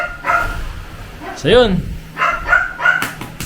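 A household dog barks and yips with a short whimpering whine between barks, close by, over people chatting.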